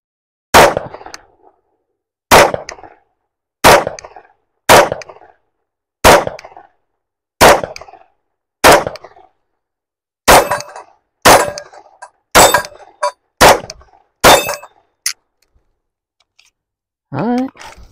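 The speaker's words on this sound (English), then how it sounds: "we're just going to shoot it and just kind of enjoy this gun and enjoy the double action, single action" A Sig Sauer P229 pistol chambered in 357 Sig, fitted with a red dot sight, fired double action then single action: about fourteen loud, sharp reports spaced one to two seconds apart, then quickening toward the end, with no talk.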